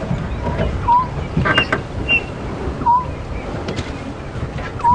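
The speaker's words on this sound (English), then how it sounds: "I just want you to listen to the amazing birds that are calling here now." Several birds, including a chinspot batis, call outdoors at Djuma Game Reserve: short whistled notes and chirps scattered over a few seconds, moderately distant, above gusty wind and low background rumble.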